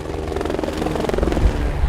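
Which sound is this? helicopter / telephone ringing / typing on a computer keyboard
helicopter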